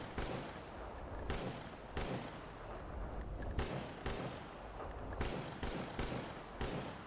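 Repeated bursts of gunfire from the S.T.A.L.K.E.R. GAMMA game ring out, sharp loud shots in irregular volleys over a steady background, with no talking.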